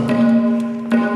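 A single tabla stroke imitates a conch shell, producing a sustained, ringing tone that holds steady for about a second, with light taps audible over it.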